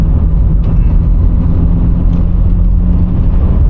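Cabin-side view of a diesel BMW with broken traction control driving along, a steady loud low engine and road rumble filling the whole stretch without pause.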